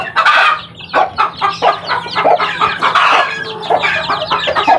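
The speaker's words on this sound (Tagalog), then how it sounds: "Iiyakan na itong aking mga sisiw." Young chicks being fed, a dense, continuous chorus of high, overlapping peeps and cheeps right up close, with clucking mixed in and a steady low hum underneath.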